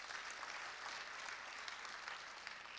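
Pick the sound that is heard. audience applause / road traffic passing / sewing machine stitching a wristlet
audience applause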